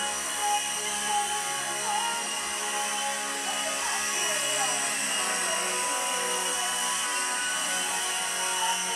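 A toy helicopter flies indoors, its small motor giving a steady, whining electric buzz whose pitch wavers as it moves about the room, heard fairly close and without any obvious talking.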